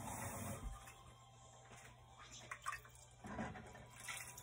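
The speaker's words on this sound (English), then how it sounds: "I need to put more water." Water pours steadily into a pan, a continuous splashing rush with a low hum underneath, rising briefly as the stream shifts.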